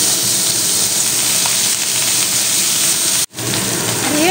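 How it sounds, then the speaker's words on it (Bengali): Small cut eggplant pieces fry in hot oil over a high flame, giving a loud, steady, dense sizzle that runs nearly unbroken, with one brief drop-out before the crackling resumes. "গ্যাসের ফ্লেমটা হাইতে রেখে বেগুনগুলো ভেজে নেব আগে"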